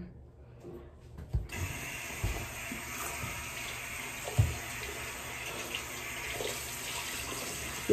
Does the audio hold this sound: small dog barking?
no